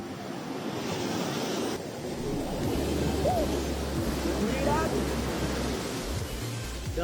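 Ocean surf washing onto the shore at Nha Trang, a steady rushing roar of breaking waves mixed with wind buffeting the microphone, continuous and fairly loud throughout.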